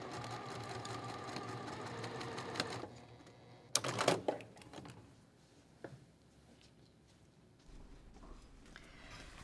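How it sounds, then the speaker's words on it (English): A sewing machine stitches a quilt block in a steady run of rapid needle strokes, then stops abruptly; a few clunks and quieter handling noises follow. "Okay, so I sewed a stitch right there."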